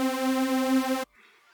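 A Sytrus supersaw synth patch holds one bright, buzzy, sustained note for about a second and then cuts off abruptly, leaving near silence.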